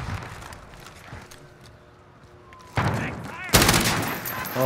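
Video game gunshots fired at teammates: quiet ambient stretch, then sharp loud bursts of gunfire near the end, with a strong blast in the final second.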